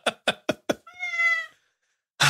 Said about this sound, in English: This cat chooses the wrong times to meow and the right times to stay silent.